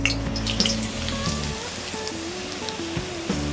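Semolina (rava) frying in ghee in a pan over low heat, a steady close sizzle with soft crackling, alone with no talk.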